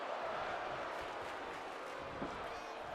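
In the video game WWE 2K24, a wrestling crowd keeps up a steady, dense roar of cheering throughout a match, loud and unbroken.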